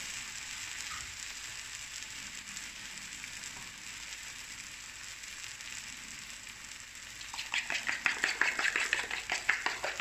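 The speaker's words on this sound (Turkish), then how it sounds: "Yumurtamı biraz daha çırpıyorum." Eggs being beaten in a bowl for a roasted-eggplant omelette: after a quiet stretch, a fast, steady clatter of whisk strokes starts near the end, fairly faint.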